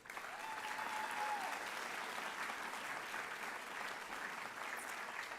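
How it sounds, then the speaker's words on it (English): Steady applause from an audience at a college graduation ceremony, even and sustained, with no voices standing out. "A round of applause, please."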